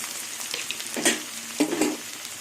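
Onion, potato and green chilli frying in a pan, a soft steady sizzle close by with two brief stirring scrapes.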